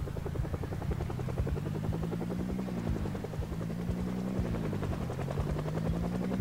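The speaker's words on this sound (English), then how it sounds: "Hey, chopper, go away." In the video game Project Zomboid, a helicopter's steady rotor chop thumps in a fast, even rhythm, with a low engine drone under it, heard loud and constant throughout with no talking.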